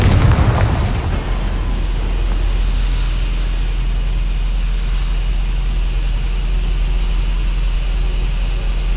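In the Hogwarts Legacy video game, a Confringo spell explodes with a sharp, loud burst at the start, then settles into a low, steady rumble of game ambience.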